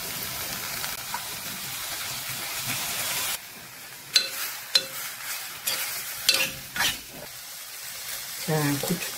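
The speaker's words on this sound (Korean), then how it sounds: "김치를 살짝 볶아주잖아. 그러면 더 맛있어." Aged kimchi stir-fried lightly in a pot, giving soft sizzling and stirring scrapes in bursts over steady background hiss, fairly faint and close.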